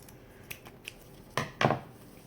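Scissors cut ribbon for a bow, first with a few faint light snips, then two louder close crisp cuts near the end, with no talking.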